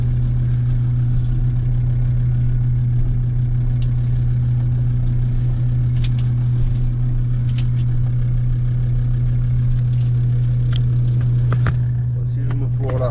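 Engine of a wrecked car idling close by, a loud steady low drone that holds unchanged, with a few faint clicks and knocks scattered over it.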